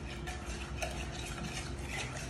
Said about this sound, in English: Just whisk it enough so that there are no lumps